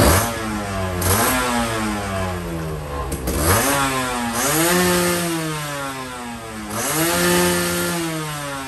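A motorcycle engine is revved hard several times against an 11,000 rpm limiter, each pull climbing quickly, bouncing flat at the cutoff and then dropping back, loud and close with no voices.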